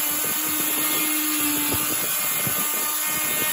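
An abrasive cleaning brush scours rust off a surface, producing a constant loud hissing, grinding whir that holds steady throughout with no voices.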